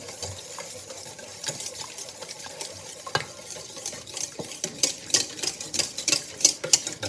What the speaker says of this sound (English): And then we're just going to mix those together to get the base of the mix.